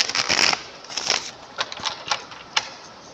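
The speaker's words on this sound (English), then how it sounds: "Get one more shuffle before we start your reading." A deck of tarot cards is shuffled by hand, producing a few short papery riffles and soft flicking bursts close by, separated by brief quiet gaps.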